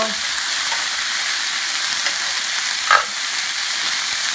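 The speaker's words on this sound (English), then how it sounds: "we're just going to stir fry this, not for more than 2 minutes" Apples and mixed vegetables stir-fried in a pan, giving a steady close sizzle with a faint scrape of stirring and one brief clatter near the end.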